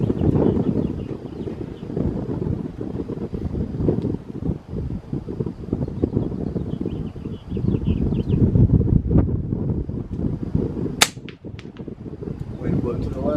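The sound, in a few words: wind blowing at an outdoor shooting range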